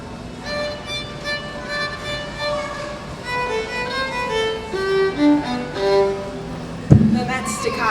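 Orchestral strings bowed staccato, short detached notes in a quick stepping pattern over a sustained background, ending with a sharper accented stroke near the close.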